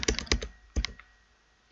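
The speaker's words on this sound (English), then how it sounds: "now I'm typing, but you can't see anything." Password being typed on a computer keyboard while configuring a Cisco router: close, crisp keystrokes in quick clusters, a pause, another short burst, then a long gap before a final tap, with no talking.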